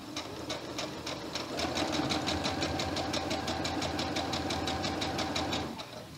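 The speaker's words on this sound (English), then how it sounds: "I'm going to start sewing on the side of my tie using the 1/4 inch seam allowance" A sewing machine runs a quarter-inch seam down the side of a fabric necktie, its rapid, even needle clatter running steadily for several seconds before slowing and stopping.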